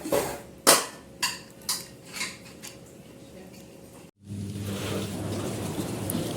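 Dishes and pots clatter in a series of sharp knocks during scrubbing, followed by a steady hiss of rain on a surface that takes over the rest.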